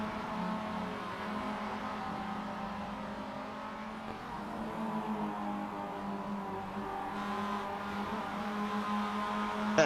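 Roadster race cars circle a track, their engines blending into a continuous, moderately distant drone that rises slightly toward the end, with no voices over it.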